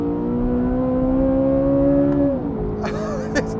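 A Chevrolet Corvette Z06 on a race track accelerates with a loud, steady engine drone that climbs slightly in pitch, then dips sharply as it shifts or eases off, heard from inside the car.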